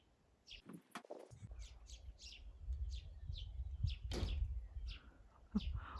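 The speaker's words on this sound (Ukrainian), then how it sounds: "У нас тут баталії цілі пташині." Swallows and sparrows chirp around a thatched roof in a garden, a run of short bright calls repeating at close to middle distance over a low background rumble, with a few louder bursts near the end.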